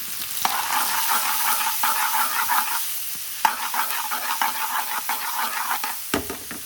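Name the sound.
diced onions and bay leaf frying in pan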